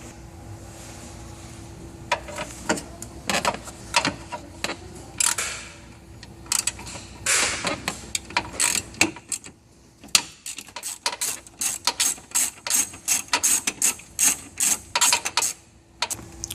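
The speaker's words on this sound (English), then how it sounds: "the 20 Torx, let's remove that so we can remove the final plug" Ratcheting clicks and short metallic bursts as a T20 Torx screw is backed out of a BMW X5 headlight, close and irregular with quiet gaps between bursts.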